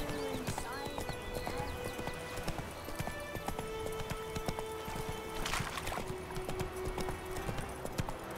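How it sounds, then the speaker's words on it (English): Horse hooves clip-clop at a steady trot with a neigh, from the horse in The Witcher video game, running on a Gigabyte GTX 980 Ti, close and clear, with a voice speaking over the hoofbeats. "Whoa there, Roach"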